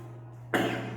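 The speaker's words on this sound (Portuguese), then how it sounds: "Essa tosse me pegou." A single sharp cough bursts out midway through after a quiet, humming moment, close to the microphone.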